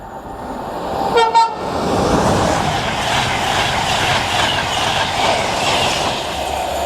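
Train roaring through Biggleswade station on the East Coast Main Line, a short horn blast followed by a loud, close, sustained rush of passing wagons with rhythmic clatter.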